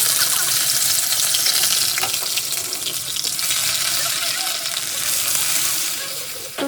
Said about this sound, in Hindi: तो तेल गरम हो चुका था, उसमें हमने डाली है सबसे पहले हींग, जीरा।